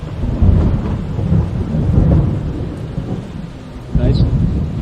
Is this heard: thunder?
yes